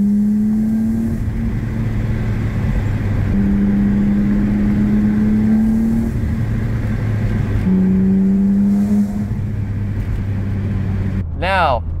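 A car with a lighter flywheel coasts in fifth gear off the throttle, its engine humming steadily at low revs as it rolls along, with a faint voice talking over the drone.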